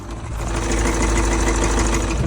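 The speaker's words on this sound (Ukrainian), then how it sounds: "Так просто клепчий двигун з емульсією." A car engine with oil-coolant emulsion idling with a steady, rough mechanical clatter underneath, a continuous loud drone with rhythmic knocking and no voices.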